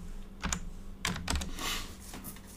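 Fingers typing a password on a computer keyboard in a quiet room, a handful of crisp key clicks in uneven bursts, close and clear with no talking.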